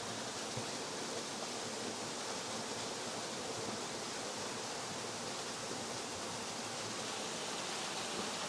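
Steady roar of rushing water from a waterfall, a dense, unbroken broadband wash that stays constant and close throughout with no voices.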